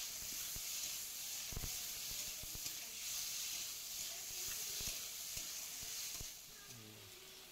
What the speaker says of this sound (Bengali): কেটে রাখা টমেটোগুলো দিয়ে দেবো। দিয়ে খুব ভালোভাবে কষাবো।